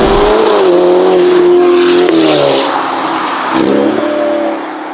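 A 704 hp Novitec-tuned Ferrari Roma Spider revs through its aftermarket exhaust, a deep, loud burbling roar that rises and falls in pitch before easing off toward the end.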